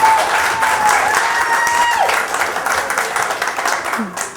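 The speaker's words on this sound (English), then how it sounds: "give her a round of applause because this has never happened before" An audience at a magic show breaks into close, loud applause mixed with crowd voices, holding steady before easing off slightly toward the end.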